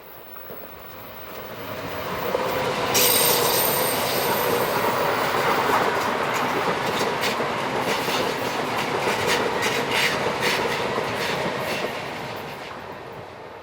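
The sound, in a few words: Class 610 train, Basel to Venezia Eurocity, passing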